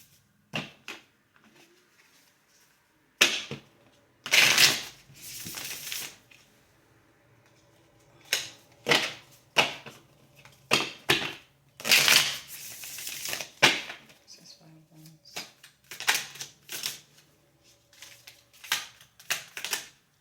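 Flimsy paper cards are shuffled by hand in repeated quick riffling bursts, crisp and close, separated by short quiet pauses.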